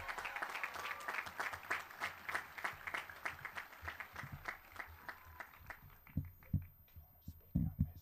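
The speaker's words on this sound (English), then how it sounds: "Please give a big round of applause for our valedictorian," Applause at a high school graduation ceremony in 2025, heard as a scattered crowd clapping with some individual claps standing out, under talk and murmuring. It thins toward the end, where a few louder thumps come through.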